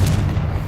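Confringo spell blast in the video game Hogwarts Legacy, a single loud, booming burst with a deep low-end rumble that fades over under a second.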